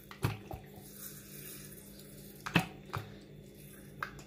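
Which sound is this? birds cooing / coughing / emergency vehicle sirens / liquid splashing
liquid splashing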